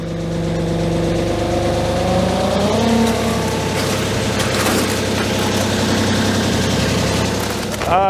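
A heavy Kubota diesel tractor engine cold-starting at -30 Celsius cranks very slowly and catches, then settles into a loud, rough, steady idle close by.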